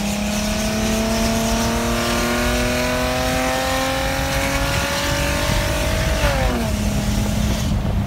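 A Mercedes-Benz SLK320 accelerates hard on a test drive, engine note rising steadily through the rev range for about six seconds before dropping abruptly as the gear shifts, loud and close from inside the car with no talk.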